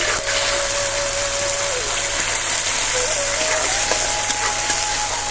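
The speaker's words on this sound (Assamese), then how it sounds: "এতিয়া আমি সৰিয়হ বটাখিনি দি দিম।" White mustard paste added to chitol fish frying in a pan, with a loud, steady, continuous sizzle and hiss close up, under a thin layer of background music.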